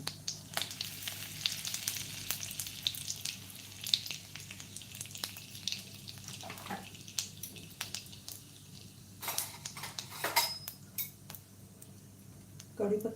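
Curry leaves go into hot oil with bloomed cumin in a pan and crackle in soft, uneven pops and sizzles, mixed with the clinks of a metal spoon against the pan.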